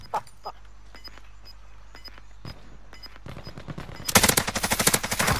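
Gunfire in the video game Warzone: scattered single shots and faint clicks give way to loud, dense automatic bursts firing rapidly over the final second and a half.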